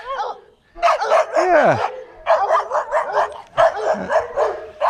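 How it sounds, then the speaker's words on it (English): Several dogs, including a pug, barking and yipping in a relaxed Mexican neighborhood, with bursts of overlapping barks and a falling whine, close and loud, and a brief spoken word among them. "Sorry, I got some dogs here."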